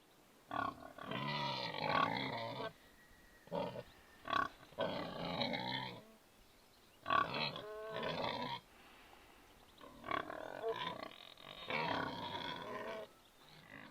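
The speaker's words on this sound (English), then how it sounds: "So behind me we've got these noisy pigs." Loud, rough grunting and snorting from several pigs close by, coming in irregular bursts with short pauses between.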